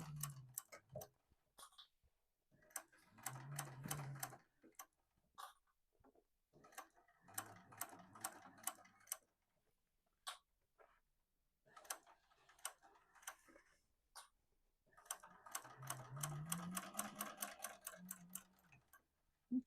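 A sewing machine stitches fabric for a sling in short, rapid bursts of mechanical clatter, with pauses and small clicks between runs, close up and with no speech.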